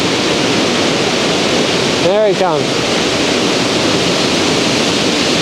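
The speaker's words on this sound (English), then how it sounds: "Up by the waterfall there." Steady loud rushing of a waterfall fills the scene, with a brief whooshing pass of an FPV drone partway through and someone speaking briefly over the water.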